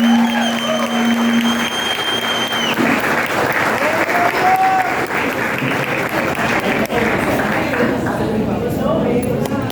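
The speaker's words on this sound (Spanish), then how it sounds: "un fuerte aplauso para mi" Loud congregation applause at a Spanish-language church service, sustained crowd clapping with voices and a sustained tone mixed in near the start.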